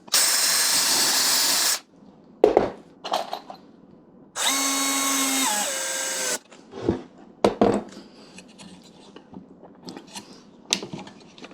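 A power drill drives a screw into wood for a bee honey extraction rig. The motor whirs in two loud bursts with rising and falling pitch, separated by clicks and handling knocks, with no voices.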